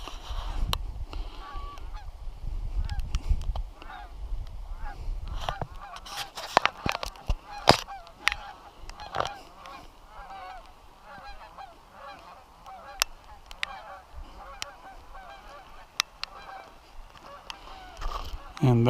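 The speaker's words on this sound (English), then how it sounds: "Oh, look at this. Here come the geese." A flock of Canada geese honking repeatedly, the calls overlapping and growing busier as the birds pass fairly close, with some low rumble early on.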